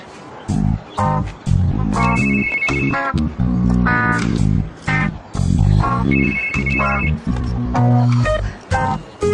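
Phone ringing with an incoming call in a French TV series scene, a loud repeating melodic ringtone pulsing in regular bursts with short gaps, dominating the scene.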